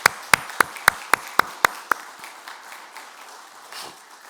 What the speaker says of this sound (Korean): 우리 축복의 박수, 감사의 박수 보내도록 하겠습니다